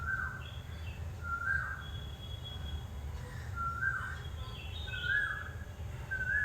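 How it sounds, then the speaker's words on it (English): A bird sings repeated short, bright phrases at a steady pace, moderately distant, over a low outdoor rumble with no talking. "The bird is at it again."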